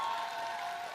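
A studio audience on a televised singing competition stage applauds the arranger in a short, even burst of many hands clapping together.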